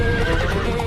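A horse gives a short, loud whinny close by in a cartoon scene, with faint hoof clip-clop mixed in and no speech.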